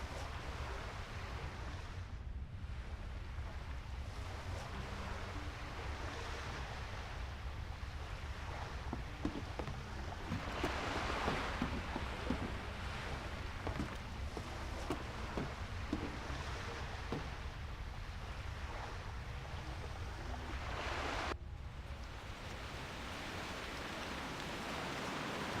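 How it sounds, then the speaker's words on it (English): Steady rain weather effect in the World of Warcraft video game, a soft, continuous wash of hissing noise that holds faint and even throughout with slight swells, with no talking. "so much for diminished rain effect, huh?"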